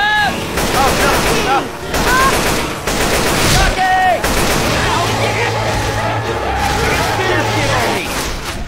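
Video game gunfire from a multiplayer shooter: loud, dense bursts of automatic fire and single shots overlapping continuously, with brief pauses, close and harsh.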